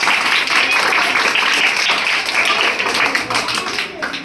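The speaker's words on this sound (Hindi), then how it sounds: "चलो अपने लिए सब ताली बजाओ एक बार।" Children in a classroom clap together for themselves, a dense, steady patter of many small hands lasting several seconds and fading slightly at the end, with a bit of speech mixed in.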